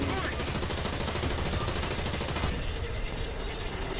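Rapid, steady gunfire rattles on without a break in the tank game War Thunder, a dense automatic burst close up that thins slightly partway through.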